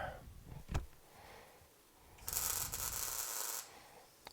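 A YesWelder Firstess MP200 welder set for a 3/16 rod lays down a short tack weld, heard as a steady, bright hissing crackle lasting about a second and a half after a brief thump.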